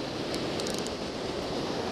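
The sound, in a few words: ocean waves breaking in the surf on a beach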